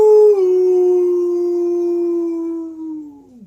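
A dog lets out a single long, clear howl, loud and close, holding a steady pitch before sliding downward and fading out, with no voices.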